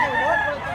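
A rooster crows in a short, loud, drawn-out call at a market in Mantalungon, Cebu.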